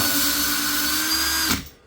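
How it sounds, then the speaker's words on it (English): A power drill trimming and chamfering 6.5 Creedmoor rifle brass whirs at a steady high pitch close by, then winds down abruptly and falls silent near the end. "Spin your drill up, just put that in,"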